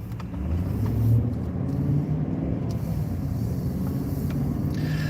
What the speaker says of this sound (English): Come on, car, drive through here